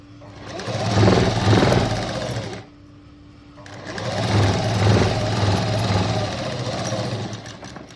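A sewing machine stitching a strip onto a boat-neck blouse runs in two close, loud whirring bursts of steady rapid needle chatter, separated by a short quiet pause, with no voices.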